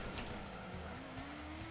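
Race car engine in Gran Turismo, a Toyota in a Sunday Cup race with a Supra ahead, giving a faint steady whine that climbs in pitch under a layer of hiss.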